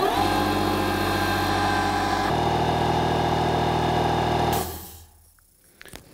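A Metabo HPT 36V MultiVolt 2-gallon cordless air compressor, model EC36DAQ, runs close and loud with a steady mechanical drone that shifts pitch partway through, then shuts off and leaves near silence with a faint click at the end.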